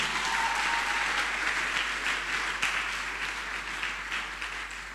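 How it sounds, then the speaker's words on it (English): An audience at a closing ceremony for a special intervention program applauds, a full sustained round of clapping from many people that stays loud and fades slightly toward the end. "let's just give them a round of applause"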